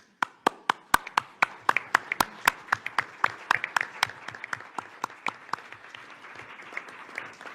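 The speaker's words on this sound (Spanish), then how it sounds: "que me permita darle un aplauso de reconocimiento" Applause for Araceli Catalán at a forum on gender-based political violence in electoral justice, starting with sharp separate claps that thicken into steady clapping from a modest audience, then gently thinning out.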